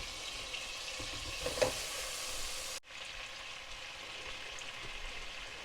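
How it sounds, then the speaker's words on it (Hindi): Butter melts in a pan with a faint, even sizzle and hiss. A brief clatter comes near the start, and after a short dropout midway the quiet frying carries on alone. "अब हम उसी पैन में बटर डालकर मेल्ट कर लेंगे।"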